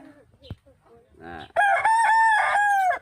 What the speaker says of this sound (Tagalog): Damo kami di manok. Puro ito bulang guys.